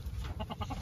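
Hens give a quick run of four or five nervous clucks in a farmyard, fairly faint over a low background rumble.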